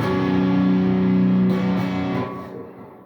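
A loud, sustained distorted electric guitar chord rings out with rich buzzing harmonics, then gradually fades.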